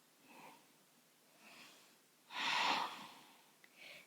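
Slow, audible breaths taken while holding a yoga stretch with arms extended overhead, soft airy inhales and exhales at a gentle rhythm, one longer, fuller breath in the middle, quiet and close with no talking.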